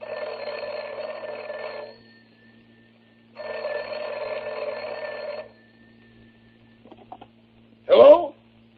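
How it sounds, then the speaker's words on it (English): A 1939 telephone rings for a long-distance call, two long, loud ring bursts separated by a pause, followed by a receiver being picked up and a voice answering. "here's Jack calling Rochester on the long-distance phone"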